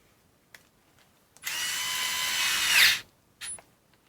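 Bosch Go 3 electric screwdriver in a torque test whirs in one loud, strained burst of about a second and a half, then cuts out, followed by a brief second blip and faint clicks.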